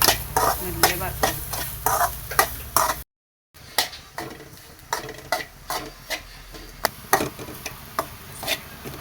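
Grated coconut fries in oil with cumin and crushed garlic in a pan, a close crackling sizzle broken by regular sharp scrapes and clicks of stirring, with one brief silent gap.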